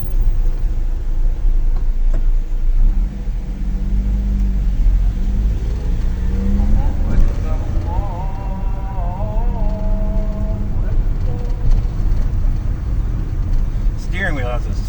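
An old car with spongy brakes and loose front turn signals drives along, its engine rumbling low and continuous. Someone talks over the steady motor noise, and a squeaky creak rises briefly midway.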